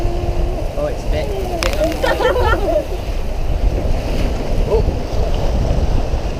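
Rushing, splashing water on a theme-park rapids ride in Madrid, loud and close with wind buffeting the mic, while riders shout and talk over it.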